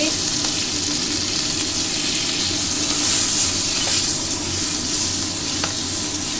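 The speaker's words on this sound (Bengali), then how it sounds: "ফোড়ন দিচ্ছি" Whole spices for phoron crackle and sizzle steadily in hot oil in a home Bengali kitchen cooking crab with mankochu, a dense continuous fry hiss with light stirring scrapes throughout.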